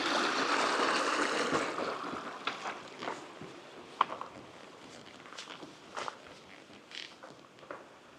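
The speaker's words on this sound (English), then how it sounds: "There's a nice easy cross into this little stream, and just to your left there is an absolutely idyllic set of little waterfalls." A small Lake District stream with little waterfalls flows in a steady broadband rush, close and moderately loud, with occasional footsteps and light clicks scattered over the water noise.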